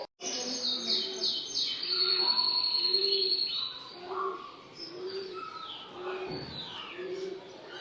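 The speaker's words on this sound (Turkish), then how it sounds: "Değişik türde bir sürü kuş mevcutmuş burada." A bird park in Gaziantep, Türkiye holds many kinds of birds: doves coo in a steady repeating rhythm while assorted chirps and tweets overlap nearby, loud and continuous with no talking.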